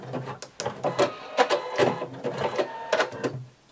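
A sewing machine backstitches elastic on a swimsuit, giving close, rhythmic runs of needle chatter broken by brief pauses, with a sharp tick at each restart.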